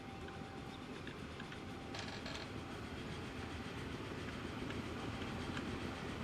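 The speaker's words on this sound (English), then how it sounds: "I want to ride along with our new iron train here" Train running on rails in Transport Fever 2, a steady loud rumbling roll with rhythmic clickety-clack and a brief metallic screech partway through, continuous throughout with no talk.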